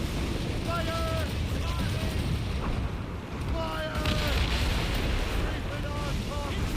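Heavy ship cannons boom during a naval battle in Assassin's Creed Rogue, a rumbling roar under a constant wash of sea and battle noise, with shouted voices and whistling shot tones scattered across it.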